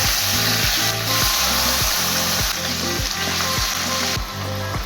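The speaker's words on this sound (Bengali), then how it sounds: "পনিরগুলো একটু ভাজা ভাজা হলে তুলে নেব।" Paneer cubes sizzle steadily in a pan of hot oil with a pinch of turmeric, a dense continuous frying hiss throughout, overlaid by a repeating low rhythmic hum from nearby equipment.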